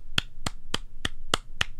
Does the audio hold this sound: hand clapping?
yes